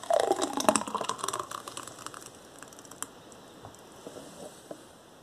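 Energy drink pours into a cup with a bright, splashy patter of liquid that is loudest at first and then thins to scattered drips, with no talking.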